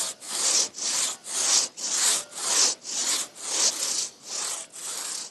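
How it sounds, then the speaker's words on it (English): Hand saw cutting through a tree trunk on a Victorian-era farm, steady back-and-forth strokes, about ten rhythmic rasping pulls, close and loud with no talking. "Then it's back to sawing the other side to meet up with the cut."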